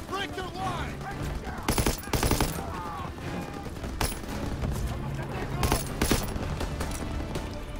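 Bursts of gunfire in Call of Duty WW2 during a fight at a bridge over the Rhine, with several loud volleys and rattling automatic fire over a steady battle din, and voices talking underneath.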